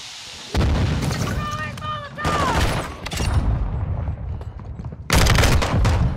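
Dense, loud gunfire and explosions from a Modern Warfare 2 multiplayer Domination match, in sustained bursts and volleys, with in-game radio voice callouts over the shooting.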